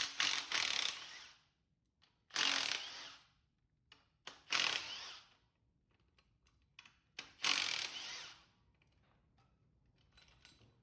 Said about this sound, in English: Let's get this throttle body off